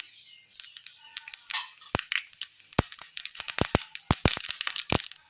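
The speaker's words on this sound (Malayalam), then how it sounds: "കടുക് നന്നായി പൊട്ടിക്കിട്ടിയിട്ടുണ്ട്" Mustard seeds popping in a pan of hot oil, a rapid irregular run of sharp crackles and pops, close and fairly loud, with no voices.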